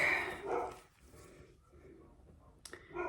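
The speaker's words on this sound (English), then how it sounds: "I hear a dog barking outside and I knew Sully was gonna bark" A dog barks outside on a snowy day, a few muffled barks at moderate distance with a sharper yelp near the end, and no talk over it.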